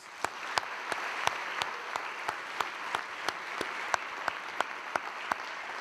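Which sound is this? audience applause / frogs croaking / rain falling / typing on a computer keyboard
audience applause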